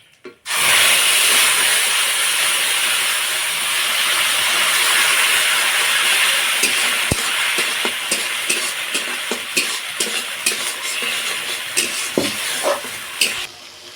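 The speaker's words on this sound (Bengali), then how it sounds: "গ্রেভি বানানোর জন্যে ওই একই তেলে জিরে ফোড়ন দিচ্ছি দিয়ে দিচ্ছি একটা তেজপাতা একটা শুকনো লঙ্কা এবার এর মধ্যে দিয়ে দিচ্ছি টমেটো আদার পেস্ট" Cumin seeds, a bay leaf and a dried chilli crackle in hot oil, then tomato-ginger paste hits the pan with a loud, steady hiss; the sizzle runs close and continuous for over ten seconds, broken late by spatula clinks and stirring.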